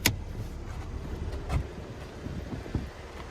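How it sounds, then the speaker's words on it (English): Gusty wind buffeting a microphone outdoors, a low rumbling roar with a few stronger bursts, and no one speaking. "Sorry about the wind"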